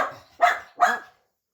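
A dog barking nearby: three sharp, loud barks in quick succession, the first softer and trailing, the last two strong, then quiet.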